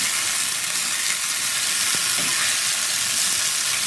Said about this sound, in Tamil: போட்டு நல்லா ஃப்ரை ஆகிற வரைக்கும் வச்சுக்கோங்க